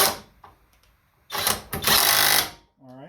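A 20-volt brushless Alloyman half-inch cordless impact wrench fires in two loud bursts of fast rattling hammering. Quiet clicks and a brief spoken word come between the bursts.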